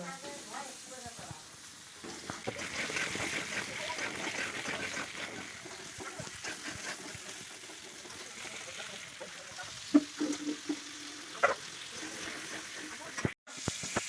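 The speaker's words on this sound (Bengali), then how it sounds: "আলু দিয়ে দিচ্ছি আলুটাকে ভেজে নিচ্ছি" Potatoes frying in a wok for a vegetarian khichuri, a steady close sizzle with occasional stirring scrapes and a few brief louder knocks near the end.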